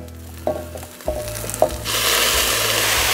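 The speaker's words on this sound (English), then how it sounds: "And boy, it really sizzles when that moisture gets poured back in there." Beef sizzles loudly in a hot pan as moisture is poured back in, with a few knocks and clatters early on before a steady broadband hiss takes over and holds to the end.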